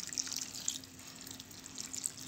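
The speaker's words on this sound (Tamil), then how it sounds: "இந்த ஸ்டேஜில் இதில் 1/2 கப் தண்ணி ஊற்றிடலாம்." Half a cup of water is poured into butter chicken gravy in a home kitchen, a soft trickle with small splashes and drips, steady and close, with no talking.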